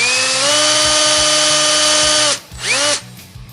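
A power drill with a hole-cutting bit whines at high speed as it bores through material backed by a block, then stops, briefly revs up again and winds down.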